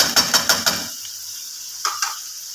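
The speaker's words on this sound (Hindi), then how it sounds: "तो अब इसमें डाल दूंगी चावल।" Soaked rice with its water tipped into a pot of chickpeas roasted over medium flame, a few quick splashy pours up front followed by a steady low hiss and two brief clinks near the end.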